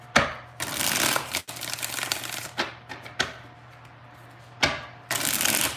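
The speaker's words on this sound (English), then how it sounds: "let's get 5 shuffles" Tarot cards are riffled in several close, crisp bursts separated by pauses, each shuffle a dense papery flutter with no voices over it.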